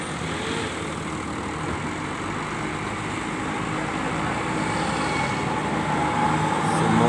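A PT Haryanto bus engine idles and rumbles at the Jatijajar bus terminal, a steady low diesel drone that grows slightly louder near the end, with no talking.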